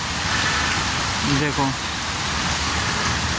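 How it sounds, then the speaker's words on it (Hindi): Heavy, nonstop rain pouring in Mumbai, a dense steady roar close by, with someone speaking briefly over it. "अभी अभी रात से एकदम बारिश ताबड़तोड़ बस हो ही रहा है"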